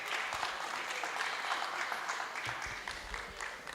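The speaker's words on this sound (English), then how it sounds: "Please clap for him." Audience applause for speaker Chidi Vic Ezenwafo at the NBA Lagos Law Week town hall: steady, moderately loud clapping from a crowd that keeps going through the whole stretch, with a few low thumps near the end.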